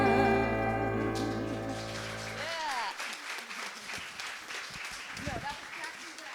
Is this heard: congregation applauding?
yes